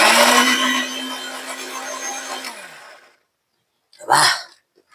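Mixer grinder blending peeled mango for mango lassi, a loud motor whir that winds down after about two and a half seconds into silence, followed by a brief second short burst.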